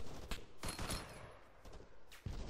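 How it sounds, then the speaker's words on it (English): Friendly gunfire during an Arma military mission, faint scattered bursts of distant shots, several sharp reports spread across a couple of seconds. "We're taking friendly fire, just wait out."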